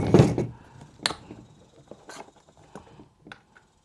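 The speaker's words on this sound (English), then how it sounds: "So we have Allen key number 3. We're going to loosen all this up." An Allen key loosens screws on an Uhlmann reel spring mechanism: a sharp metallic click, then a series of lighter ticks and scrapes, close up and fairly quiet.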